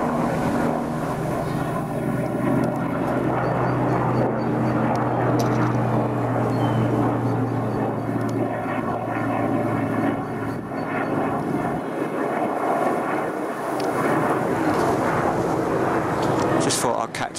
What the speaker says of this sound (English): Just thought I'd capture those little helicopters going